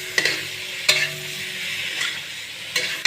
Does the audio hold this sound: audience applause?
no